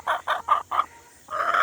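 Backyard hens, among them Ameraucana-type birds and a white hen, cluck close by in four quick, evenly spaced bursts, go briefly quiet, then break into a longer, louder run of clucking.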